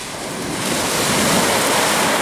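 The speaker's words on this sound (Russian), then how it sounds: "вон какая-то волна бежит сюда" Sea waves at Lyubimovka beach near Sevastopol roll steadily onto the shore in a broad, continuous wash of surf that swells slightly louder, with wind noise across the microphone and no voices.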